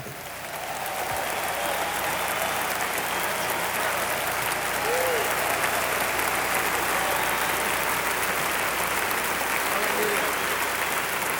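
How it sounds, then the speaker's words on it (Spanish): Sustained applause from a church congregation at a Christian worship concert, a broad, even roar of many clapping hands that swells in and holds steady, with faint voices mixed in. "Dele un aplauso al Señor, por favor."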